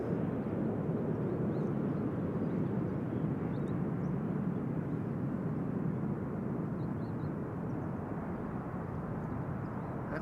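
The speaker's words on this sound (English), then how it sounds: "can hear that wake." Wake turbulence left behind an arriving airliner at Amsterdam Schiphol rumbles as a continuous low, even roar, moderately loud and unbroken, with no voices over it.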